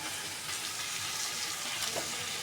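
Mixed vegetables with turmeric sauté in a pan for masale bhaat, giving a steady, quiet, even sizzle that runs without pause and without talk.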